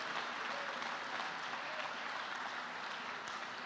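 A church congregation applauds during a service, a continuous broad rush of many hands clapping, somewhat distant and soft, steady from start to finish without voices standing out.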